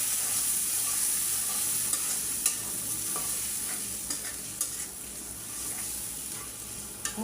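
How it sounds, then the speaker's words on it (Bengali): A blended spice paste for chicken curry is stir-fried in a pan, giving a steady close sizzle broken by repeated scraping strokes of a spoon, with no talking. "মশলাটা একটু ভালো করে কষায় নিই"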